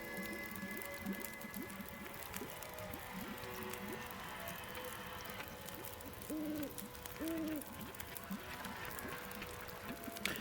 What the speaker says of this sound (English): It's funny, you hear the owl sounds, but you never see them.